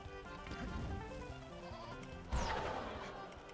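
A sheep in the LEGO The Lord of the Rings video game bleats twice, soft wavering cries with a short thud between them, faint and unaccompanied.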